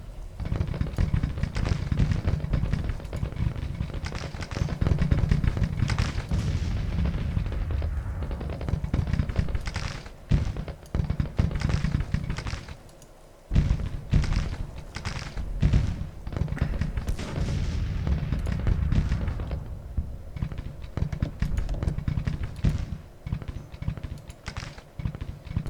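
Cannon fire in a Grand Tactician: Civil War battle, including 6-pounders and 3-inch ordnance rifles: dense, continuous crackling volleys and booms that stay loud throughout, with only brief lulls.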